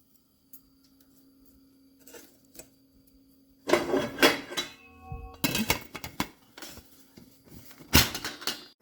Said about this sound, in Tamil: இனி வந்து இப்படி இந்த இட்டலி சட்டியில் வந்து எல்லாத்தையும் ஒன்றொண்டு அடுக்க வேணும்